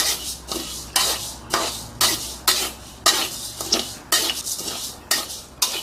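Sticky rice dry-roasted in a pan, heard as a steady series of about a dozen sharp metal spatula scrapes and clanks against the pan, close and rhythmic with no talking.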